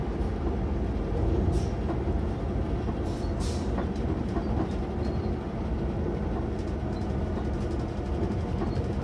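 A TER Normandie regional train pulls into Trouville-Deauville station, its heavy continuous rumble and rolling rail noise filling the whole stretch, with faint clicks and squeaks above and no voices.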